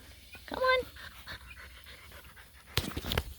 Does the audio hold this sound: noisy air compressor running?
no